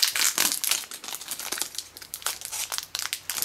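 A 1st Edition Pokémon Fossil booster pack wrapper is being torn open, with close, rapid crinkling and ripping of foil plastic in quick bursts and no talk.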